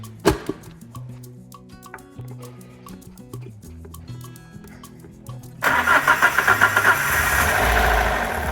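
A car engine cranks and catches after a timing repair, then runs unevenly and lumpy with the throttle body left unplugged, loud and close with a pulsing idle and no voices.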